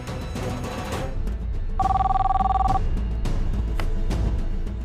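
A telephone rings once in a TV drama scene, a loud trilling electronic burst lasting about a second, set against a droning background score with soft thumps.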